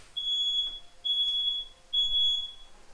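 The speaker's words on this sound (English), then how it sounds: "smoke alarms going off in the house" Three loud, piercing electronic beeps from a smoke alarm, each about half a second long, evenly spaced against a quiet room.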